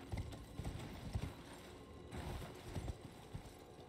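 Horse hooves clip-clop steadily at a trot in the video game Elden Ring, a continuous rhythmic patter at moderate level over a soft ambient background.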